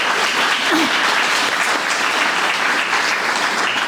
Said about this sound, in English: another big round of applause for their service.